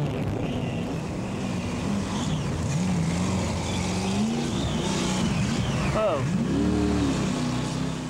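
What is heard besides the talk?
racing jet boat engine in river rapids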